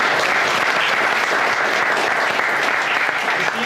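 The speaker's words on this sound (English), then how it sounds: "let's give a round of applause on that" An audience in a Methodist church at an overdose awareness event applauds, a thick, even roar of many clapping hands at steady loudness from start to finish, without any speech over it.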